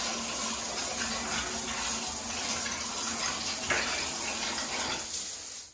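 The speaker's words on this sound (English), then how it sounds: "That's our shower." A newly fitted shower in a home renovation in Dominica runs steadily, a constant close hiss of falling water with no talking, cutting off at the end.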